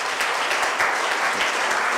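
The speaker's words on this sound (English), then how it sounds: "Give her a big round of applause." Audience at a live hackathon event in Vizag breaks into steady, dense applause, a continuous wash of many hands clapping at even loudness for the whole stretch.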